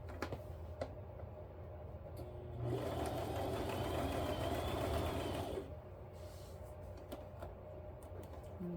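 A sewing machine runs for about three seconds as it stitches down the center of a strip of elastic for a quilt, a quiet, steady mechanical whir framed by faint handling sounds.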